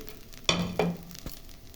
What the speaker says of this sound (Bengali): এখন বাদাম ভেজে রেখেছিলাম, এই যে বাদামটা দিয়ে দিলাম।